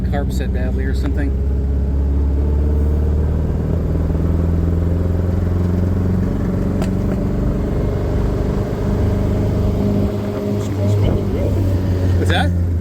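A 1979 MG Midget engine runs rough on a badly set carburetor, a steady low drone with uneven throb throughout, close and loud, with people talking over it.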